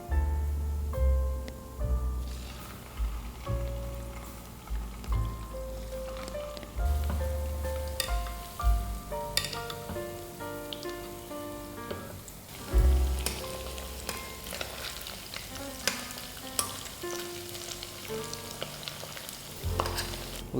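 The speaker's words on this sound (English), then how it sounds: "and it should start to sizzle." Rice ball mixture with cheese filling sizzles steadily in hot oil, a continuous crackling fry with scattered sharp pops throughout, close and fairly loud with no voices.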